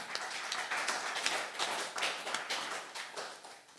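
A church congregation clapping hands to give glory to God, steady rhythmic applause from many people filling the room, continuous and fairly even throughout.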